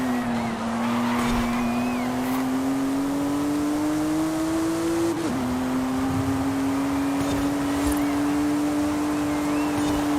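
Race car in a Forza racing video game accelerating at full throttle, its engine droning loud and close with a steadily climbing pitch, one brief gearshift dip midway, then climbing again alongside faint tire noise.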